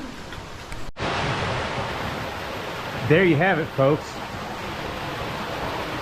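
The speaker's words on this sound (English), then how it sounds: "One of the many waterfalls in here." A waterfall rushes steadily in a wooded ravine of a nature preserve, a constant broad wash of falling water; someone speaks briefly partway through over the roar.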